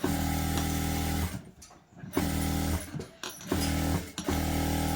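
A sewing machine stitches a blouse in steady loud runs, a humming motor with rapid needle chatter, stopping briefly twice and restarting, close up with no talk.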